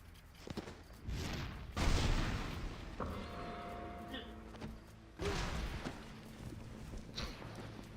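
Video game explosions, several heavy booming thuds spread over a few seconds with rumbling tails and smaller impacts between, fairly loud.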